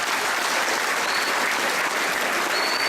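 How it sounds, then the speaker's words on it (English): A school band and chorus winter concert audience applauding, dense continuous clapping filling a hall, loud and unbroken throughout. "And another round of applause for these guys."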